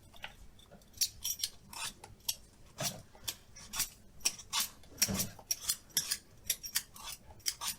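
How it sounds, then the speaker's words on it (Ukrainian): Pumpkin being peeled for a salad with feta cheese, sounding as a string of crisp, rapid scraping and cutting strokes at close range, irregularly paced with a few heavier knocks, and no voices. "очищу наш гарбузик"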